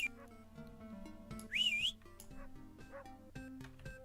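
A rising and falling whistle rings out mid-clip over quiet, steady background tones in a Newgrounds browser game, with a few faint, short dog barks scattered around it.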